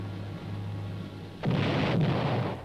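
Heavy artillery fire in a military film, a deep booming blast that erupts suddenly after a low rumbling backdrop and rolls on as a loud, sustained roar.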